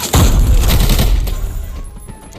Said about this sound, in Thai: ผมปาระเบิดไปปาระเบิดเข้าไป